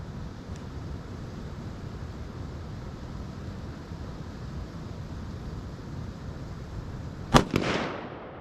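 A single sharp shot from a .308 Winchester rifle cracks out near the end at an outdoor range, after a stretch of quiet wind and background hiss, followed by a short fading echo.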